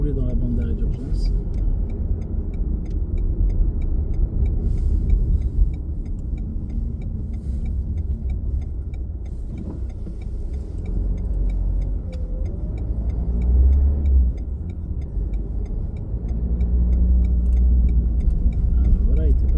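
A car approaching a roundabout on a driving lesson hums steadily from inside the cabin, with a low road rumble and faint turn-signal ticking under ongoing conversation.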